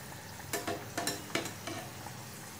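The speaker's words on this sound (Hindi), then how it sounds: "दोनों साइड अच्छी तरह से कलर चेंज होने तक फ्राई कर लेने का।" Paneer corn kachori deep-fry in oil over a low flame, giving a soft, even bubbling hiss marked by a few short bursts of louder crackle.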